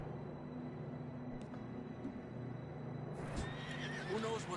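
Horses in the Red Dead Redemption II video game whinny and snort, with hooves clopping on the ground, faint and slightly distant over a low ambient background hum.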